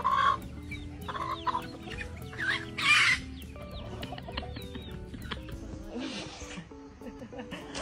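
Several hens cluck and squawk close by, with a brief crowing call near the start and other birds chattering in the background.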